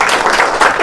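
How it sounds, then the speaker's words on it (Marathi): A room of people applauds a quiz contestant who has won the first round, a loud, close, steady patter of clapping in a brief burst. "त्यांसाठी पुन्हा एकदा जोरदार टाळ्या उद्या"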